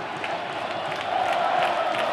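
Home supporters of Gama roar and cheer in the Bezerrão stadium during a Candangão football match against Brasiliense, a steady, dense crowd swell heard from a distance.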